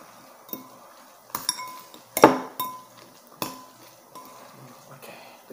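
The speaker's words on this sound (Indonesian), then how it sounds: "Sekarang kita coba aduk dulu ya." Instant Indomie noodles stirred in a bowl after microwaving: a few sharp utensil clinks and scrapes against the bowl, irregular and close, with quiet gaps between.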